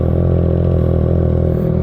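A Triumph Trident 660 motorcycle's three-cylinder engine runs loud and close, with a steady low idle rumble and light mechanical clatter throughout.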